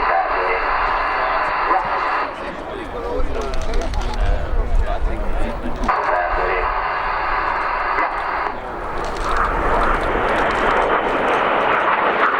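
Frecce Tricolori Aermacchi MB-339 jets fly a formation display at an air show, a loud steady jet roar rising and falling as the aircraft pass, heard under an ongoing commentator's voice.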